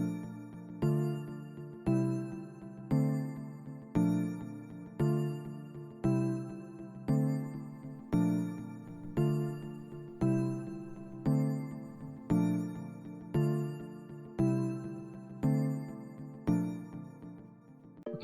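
A layered pairing of a Morphine soft key synth with a Harmor Fairy Bells preset plays a looping chord pattern, soft sustained keys with bright tinkling bell tones on top, steady and unaccompanied by voice.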